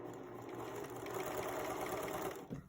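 A sewing machine runs steadily, stitching a multi-step zigzag onto elastic for an underwear waistband, a continuous close mechanical whir that stops near the end.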